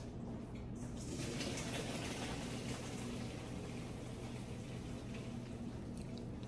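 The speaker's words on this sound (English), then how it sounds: "And drain off the water." Hot pasta cooking water drains through a colander into a kitchen sink, a steady, soft, continuous rushing hiss that stays even and fairly quiet throughout.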